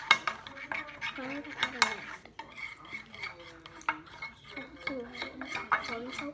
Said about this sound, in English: Okay, so now I'm going to mix.